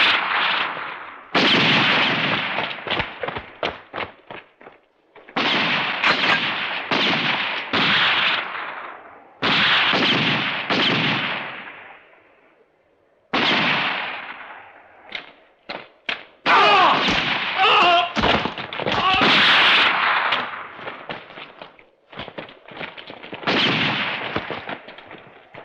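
Gunfire in a Western film shootout: repeated sharp, loud shots in rapid bursts and volleys with brief pauses, some echoing, filling the whole stretch.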